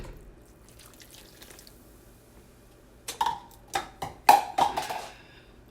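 Water from a kitchen tap splashes while hands are washed during cake baking, starting after a quiet stretch as a series of close, uneven splashing bursts over the final few seconds.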